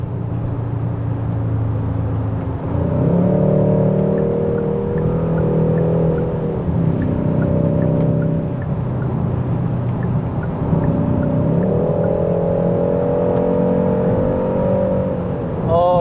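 A Hyundai Sonata The Edge N Line engine revs up and pulls away, its exhaust note rising in a steady droning whir, followed by a second acceleration a few seconds later.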